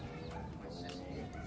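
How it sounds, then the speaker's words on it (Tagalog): Chicken clucking close by in a home setting, a few short clucks heard over steady background noise and indistinct room sound. "May manok pala dito."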